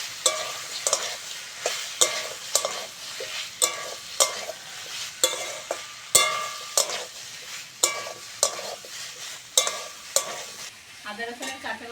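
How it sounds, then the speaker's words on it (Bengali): Ginger-garlic paste stirred and fried in a pan for a Bengali egg and eggplant curry, with steady sizzling broken by regular scraping strokes of a spatula about once a second, close and fairly loud, with no talking. "এবার দেবো আদা রসুন বাটা। আদা রসুনের কাঁচা গন্ধ না যাওয়া পর্যন্ত নাড়তে হবে।"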